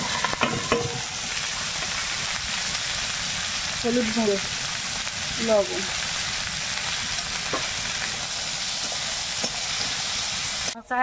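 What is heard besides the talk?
onion, garlic and green chilli frying in a pan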